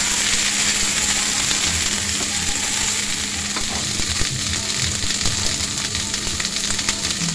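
Ginger paste and chopped vegetables for shukto stir-fry in a pan with a steady, close hiss of sizzling oil and faint scraping from stirring throughout.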